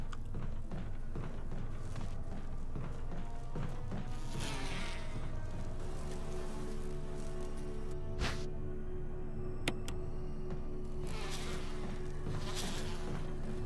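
Bees buzz continuously in a room in the Resident Evil REmake video game, a steady insect drone mixed with game ambience and occasional sharp clicks and hits.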